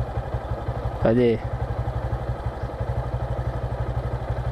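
A motorcycle engine idles steadily nearby with a fast, even pulsing throb, while someone briefly speaks over it.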